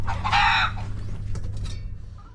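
Chickens give a loud, close burst of clucking and squawking, then a few softer clucks follow as the sound trails off, over a low background hum.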